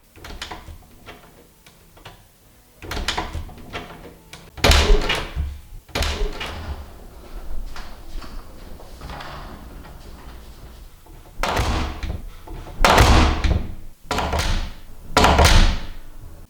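Doors recorded as sound effects open, close and slam in a series of loud, close thunks and bangs. Quieter creaks and handling noises fill the gaps between the hits, and no one speaks.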